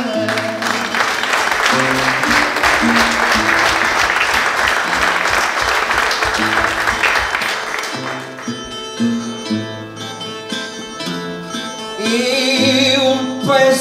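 Audience at a Portuguese cantoria song duel clapping in a loud, dense burst for about eight seconds, then thinning out as sung or played tones with sustained pitches take over, and a second swell of clapping near the end.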